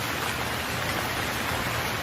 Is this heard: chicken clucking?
no